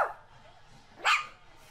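A fat dog gives two short, sharp barks about a second apart, close and fairly loud, with faint background noise between them.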